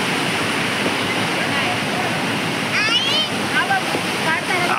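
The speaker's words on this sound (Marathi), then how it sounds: "मठा साईडला नदी वाहत आहे।" A river flows beside a temple, a steady broadband rush of water that stays level throughout, with a few faint high chirps drifting in near the end.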